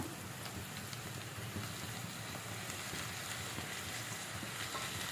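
Tomato and capsicum are added to onions frying in a pan, making a steady, even, hissing sizzle that holds at a moderate level throughout.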